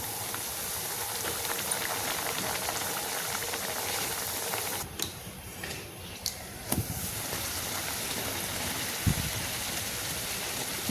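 Stuffed chana dal puris sizzle steadily in hot oil as they deep fry slowly, a dense continuous bubbling hiss with a few brief clicks and taps from a utensil partway through.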